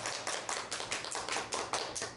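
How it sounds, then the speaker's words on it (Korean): Church congregation clapping in congratulation: a short burst of rhythmic, unison claps at a steady beat, fairly close and moderately loud. "박수 한번 드리죠"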